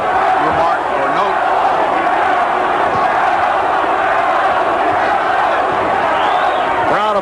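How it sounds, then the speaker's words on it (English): A boxing crowd of thousands at the MGM Grand Hotel in Reno, Nevada, chanting for Crawley during a championship fight, a dense, loud, continuous roar of voices filling the arena, with commentary speech running over it. "And a good portion of the crowd chanting for Crawley."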